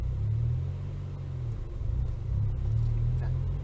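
Renault Twingo RS engine held at raised revs during a driving lesson, a steady low droning rumble from inside the car with slight swells in pitch, continuous and fairly close.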